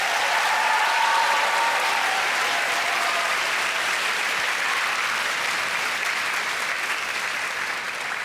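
A Piano Slam show audience claps steadily and loudly throughout, a dense even wash of applause from a large crowd that holds strong and tapers only slightly near the end.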